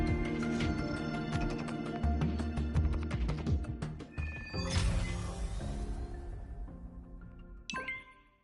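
A phone message alert in Wuthering Waves chimes over layered game music, with a bright tinkling ring near the end that stands out from the musical bed.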